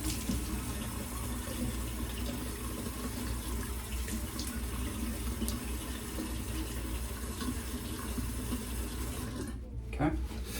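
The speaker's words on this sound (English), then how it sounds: "I'm going to now rinse it off." A tap runs steadily into a sink while alum is rinsed off the face after a shave, a close, continuous gush of water that briefly breaks near the end.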